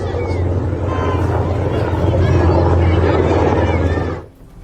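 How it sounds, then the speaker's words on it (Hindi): A US Black Hawk helicopter taking and damaged by Iranian fire from the ground, heard as a loud steady rotor and engine roar with low thumping, a dense noisy wash throughout that cuts off near the end. "ये ब्लैक हॉक हेलीकॉप्टर है, लेकिन नीचे से फायरिंग हो रही है इसमें।"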